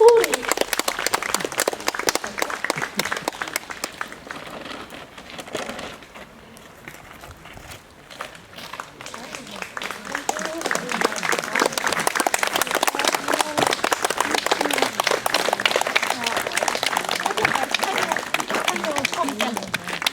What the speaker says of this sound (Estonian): Aitäh publikule, kes kaasa elab ja plaksutab.